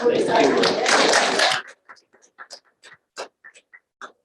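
Applause from the room at a library board of trustees meeting welcoming new staff, a burst of clapping that lasts about a second and a half and then gives way to scattered quiet sounds.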